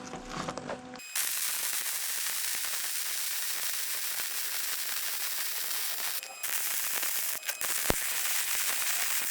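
An electric welder lays a bead on a Takeuchi TL240 loader bucket, giving a loud, continuous crackling buzz up close that stops briefly a couple of times before restarting.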